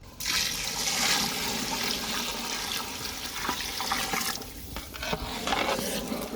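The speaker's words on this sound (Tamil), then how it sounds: "இப்போ தண்ணி ஊற்றிக்கிறோம்" Water pours steadily into a rice pot in a continuous gushing stream, close and fairly loud, with a few clinks near the end.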